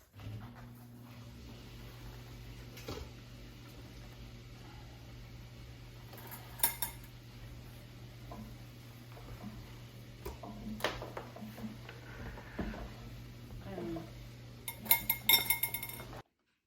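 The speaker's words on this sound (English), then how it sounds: "I just put the plate on top of the pot and turned it upside down" A plate is set on an Instant Pot and the two are flipped upside down, giving scattered ceramic and metal clinks and knocks over a low steady hum, with a burst of rattling clatter near the end.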